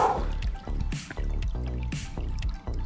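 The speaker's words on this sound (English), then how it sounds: "Water." Water trickles and drips continuously in an outdoor wilderness field, close and steady, with bright splashy drops landing in a burbling flow.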